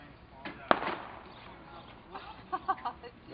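A street firework goes off during a 4th of July evening in Eugene, Oregon, a single sharp bang followed by a few faint crackling pops, heard at a moderate distance amid quiet voices.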